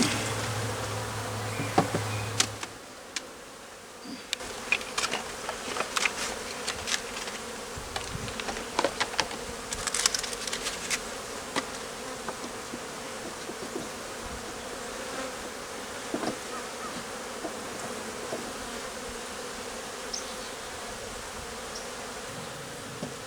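Aggressive honeybees swarm and buzz around an opened hive during a beekeeping inspection, a steady close droning with sharp individual passes flicking past, with no voices.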